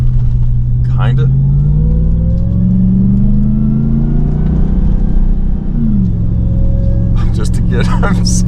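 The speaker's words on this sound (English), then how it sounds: "the truck feels better" RAM TRX pickup truck driving across desert sand dunes, its engine a loud, continuous rumble that rises and falls in pitch as it climbs and eases off, with voices talking inside the cab over it.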